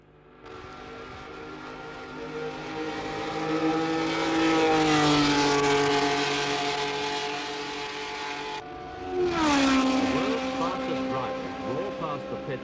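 Formula One race cars on a practice lap at Monza before the 40th Grand Prix, engines screaming loudly as they pass, pitch sweeping down, then a second car roaring by, with a voice talking over it.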